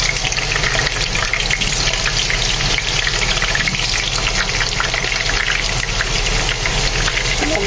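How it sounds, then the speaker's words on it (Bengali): Potato pieces frying in hot regular cooking oil in a pan for a chicken and potato curry, a loud, steady, dense sizzle and crackle that runs unbroken throughout with no talk over it. "তেলটা গরম হয়ে গিয়েছে এখন চলুন আলুগুলোকে দিয়ে ভেজে নিই"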